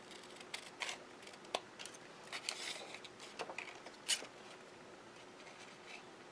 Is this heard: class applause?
no